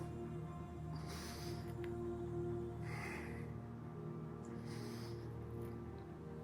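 Slow breaths in and out during a core workout, heard as soft airy rushes at regular intervals over a steady low background hum, close and quiet.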